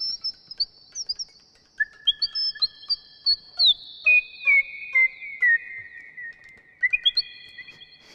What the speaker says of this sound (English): you can even make little bird sounds with them.